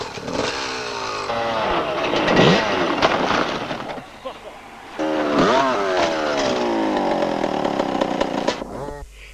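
Enduro motorcycles, including a TM 125, racing in the 1994 British Enduro Championship, their two-stroke engines revving hard in rising, buzzing bursts that fade and return near the end, with talking over them.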